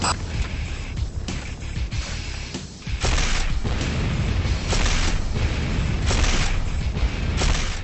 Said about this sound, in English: Second missile fire over the park.